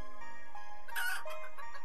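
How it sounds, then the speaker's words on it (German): Chickens in the video game Planet Centauri give a short burst of clucking and squawking over a steady musical backdrop, brief and moderately loud. "Hey, Hühner, bleib da."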